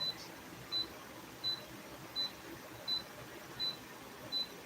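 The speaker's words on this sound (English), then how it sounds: "I don't even know what that constant beeping is." An apartment hallway carries a constant, faint electronic beep that repeats as a short high chirp about every three-quarters of a second against quiet room tone.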